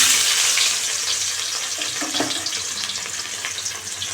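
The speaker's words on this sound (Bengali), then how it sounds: "কড়াইতে তেল দিলাম মাছটা ভাজবো এবার" Fish frying in hot oil in a kadai, a loud, close, continuous hiss and sizzle that eases slightly over the few seconds, with a faint scrape partway through.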